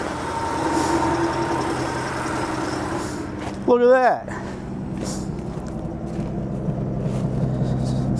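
A 1967 Ford F100 pickup with blue smoke from its dual tip exhaust idles with a steady low engine rumble, with a brief louder rising burst midway and a short spoken remark over it.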